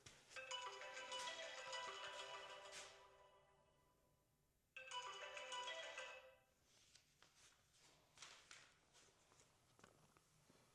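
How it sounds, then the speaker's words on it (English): A mobile phone ringtone plays loudly indoors in a house for sale, sounding two bursts of melody with a pause between, followed by soft footsteps and handling noises. "Forgot to put my phone on silent."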